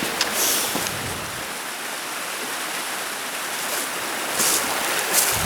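The Water of May, a river winding through hill country, flows with a steady broadband rush and splash, moderately close and continuous, with no voices.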